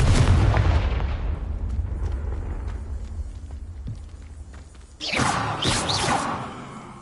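A Confringo blasting spell explodes in Hogwarts Legacy, with a loud booming blast at the start that rumbles away, then a second burst of crackling impact noise about five seconds later, with no talk.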